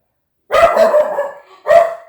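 A dog barks loudly nearby, one drawn-out bark followed by a second sharp bark, nothing else heard.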